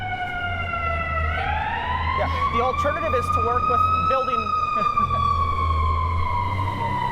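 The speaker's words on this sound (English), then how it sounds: "oh, sirens." A wailing emergency siren rises and holds steady, fairly close and loud, with someone talking over it and low traffic rumble beneath.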